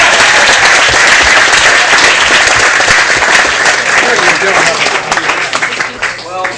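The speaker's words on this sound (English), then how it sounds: "Let's give them a big round of applause" Wedding guests at the celebration give a big round of applause for the families, loud and close, a thick continuous roar of clapping that gradually breaks into looser claps as a voice begins at the end.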